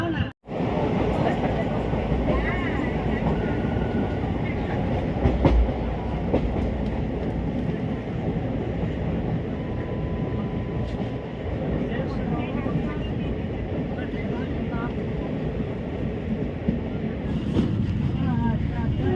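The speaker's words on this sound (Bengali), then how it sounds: "আমাদের ট্রেন গাজিয়াবাদ পর্যন্ত চলে এসছে। দেখতে পাচ্ছ গাজিয়াবাদ স্টেশন ঢুকছে।" A passenger train rolls into Ghaziabad station with a loud, continuous rumble and rhythmic clatter of wheels over rail joints, steady from a sharp start to the end.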